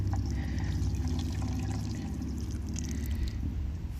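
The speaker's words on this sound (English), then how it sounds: "I'm just going to give it a baby drink of water with the garden hose." A garden hose pours water into the planting hole around a newly planted citrus tree, giving a steady close splashing trickle over a low rumble that carries on throughout.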